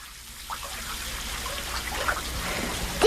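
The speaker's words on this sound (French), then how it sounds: "Tu devrais fermer le robinet." Water runs steadily from a bathtub tap, a continuous broadband rush and trickle that stays fairly even and close throughout, with no voices.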